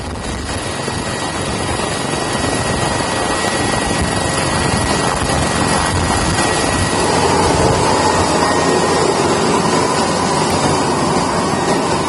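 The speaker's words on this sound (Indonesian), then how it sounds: "Bantuan dikirimkan dengan menggunakan helikopter Karakal TNI Angkatan Udara." An Indonesian Air Force Caracal helicopter delivering flood aid to isolated villages in Central Tapanuli roars loudly and continuously nearby, its engine whine and rotor wash steady for the whole stretch with no voices.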